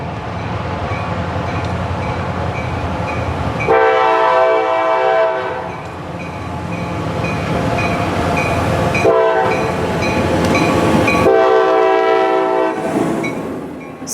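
A CSX freight train rolls past returning from the Homestead Subdivision, its horn sounding in long loud blasts over the steady rumble and clatter of the cars, with a second set of horn blasts partway through.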